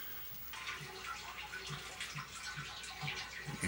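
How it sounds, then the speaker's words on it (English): Water running and splashing into a basement sump pump pit, a continuous moderate trickling wash with small irregular splashes, no talking. "Here, the sump pump getting filled up."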